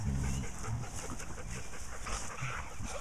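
Young puppies play close by in a busy jumble of small yips, whimpers and panting over a steady background hiss.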